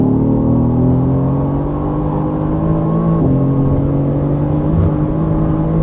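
A Mercedes AMG GT R races on the Nürburgring, its engine a loud, steady, close high-revving drone with a shift-like dip midway and no talk.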